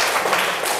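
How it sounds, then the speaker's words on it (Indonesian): A class of pupils claps hands together in a classroom during a lesson, a dense, steady patter of many overlapping claps filling the short moment. "Dika, beri tepuk tangan."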